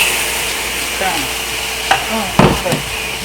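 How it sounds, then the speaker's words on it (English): A sauce of peppers and cornstarch bubbles and sizzles in a pan with a steady close hiss, broken by a few sharper pops and stirring clatters. "So as of now, guys, it's boiling. It has a bubbly thing."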